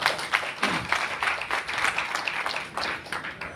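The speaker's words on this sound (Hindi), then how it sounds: "मैं चाहूंगा आप सबके लिए एक बार जोरदार तालियां हो जाए।" Audience at a business and health awareness event claps in a lively, uneven round of applause with distinct individual claps, holding steady before thinning near the end.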